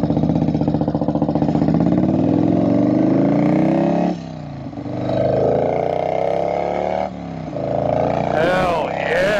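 Harley-Davidson big twin Evo motorcycle fitted with an Andrews EV27 cam, riding down the road with a loud, close engine rumble that pulls up through the gears, easing off between shifts, with wind noise throughout.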